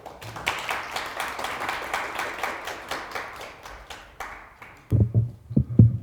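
An audience at an orientation event applauds to welcome a priest to the stage, with dense, steady clapping for nearly five seconds that thins and fades, followed by a few close, heavy thumps.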